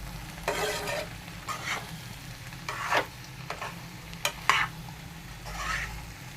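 Mixed vegetables stirred in a pan, a quiet background sizzle with about seven separate scraping strokes of a spatula spaced out at a slow, uneven pace, close but soft.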